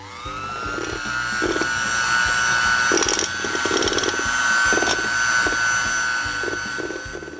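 An electric mixer beats cake batter at medium speed with a steady motor whine and a regular rhythmic thumping as the beaters circle the bowl, close and fairly loud throughout.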